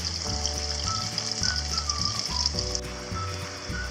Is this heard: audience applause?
no